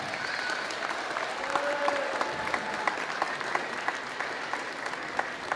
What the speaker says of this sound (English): let's give a round of applause and some support for getting that star